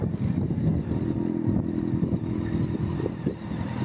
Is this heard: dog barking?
no